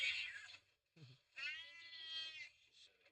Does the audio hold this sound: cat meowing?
yes